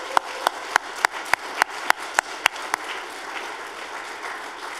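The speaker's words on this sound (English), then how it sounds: "So let's just give Nicola a round of applause." A small audience at a coding bootcamp demo day claps in a rhythmic run of distinct claps that fades out after a few seconds, with no talk.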